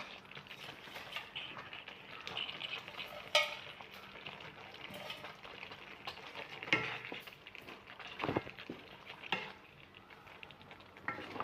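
Small sardines fry in a pan for a sardine biriyani, giving a soft, steady sizzle with occasional sharp clinks and scrapes of a utensil stirring against the pan.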